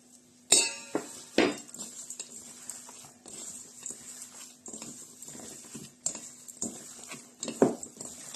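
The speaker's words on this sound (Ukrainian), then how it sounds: "Гарно треба перемішати фарш." Minced meat mixed by hand in a bowl, with soft squelching and scattered clinks against the bowl, plus a steady hum, in a quiet kitchen without talk.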